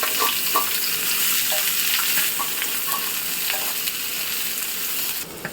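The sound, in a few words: onions frying in oil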